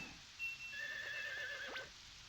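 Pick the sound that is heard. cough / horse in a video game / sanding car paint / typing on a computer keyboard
horse in a video game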